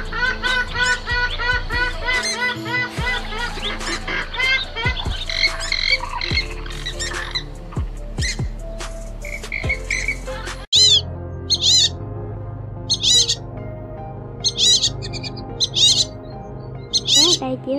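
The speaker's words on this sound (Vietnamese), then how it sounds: "tiếng chim chuẩn đầy đủ và cập nhật mới nhất để đi bẫy" Recorded migratory bird calls played for trapping, with cuckoo and coot among the species: dense overlapping squawks, chirps and trills fill the first half, then loud repeated sharp call bursts ring out at regular intervals over a steady background.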